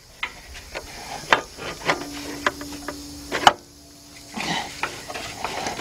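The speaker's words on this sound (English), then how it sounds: "Let's get those bolts out of there." Bolts are worked out of a 2003 Jeep Liberty 3.7 engine, heard as scattered metallic clinks, ratchet clicks and taps at close range, with a short whine midway and no talking.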